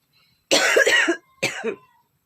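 Two close, loud coughing fits from someone with a bad cold caught from wind at a wedding; a long harsh burst is followed by a shorter one, with quiet between them.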